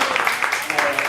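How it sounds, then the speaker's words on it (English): Audience at a Little Mekong arts event applauds, with scattered individual claps and overlapping talk in the room during a short burst. "Big applause"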